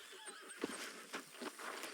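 A horse in the game Red Dead Redemption 2 gives a short neigh, with snorting breaths and soft hoof clops. The sounds are close and moderately loud, with no talking.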